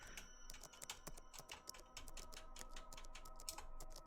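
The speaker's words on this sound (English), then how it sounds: "as though they are the sounds of a keyboard being continuously typed upon" Continuous keyboard typing, a rapid irregular stream of soft key clicks heard faintly and steadily throughout.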